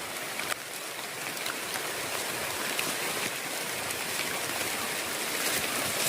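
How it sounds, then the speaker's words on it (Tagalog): Heavy rain pours down steadily, a dense, constant hiss of water with no pauses or voices. "lakas na ng ulan, hindi na kaya"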